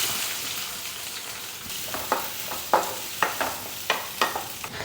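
Curry leaves and sliced onion fry in hot oil with a soft sizzle, while a spoon stirs them in a quick run of sharp scraping strokes near the end.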